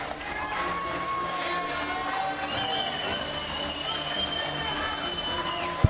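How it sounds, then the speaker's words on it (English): Crowd noise at a wrestling event as Billy Yates enters: a steady, sustained roar of cheering across the whole stretch, with music-like tones layered over it. "Loud pop from the crowd right now"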